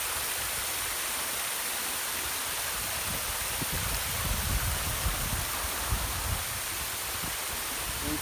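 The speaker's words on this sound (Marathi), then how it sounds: "हा ओहळ खाली पडतोय सर्व ठिकाणी लहान लहान धबधबे तयार झाले आहेत" A stream at a tribal hideaway spills down into many small waterfalls, a steady wash of splashing water heard from a short distance, fairly soft and continuous with slight surges.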